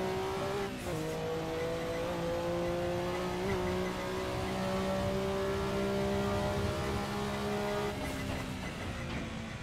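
A Porsche 962C racing car in Assetto Corsa drones loudly at high revs with a steady harmonic engine tone, brief pitch dips at gear changes and a sustained high plateau, accompanied by faint tire squeal.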